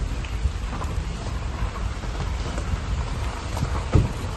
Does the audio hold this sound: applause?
no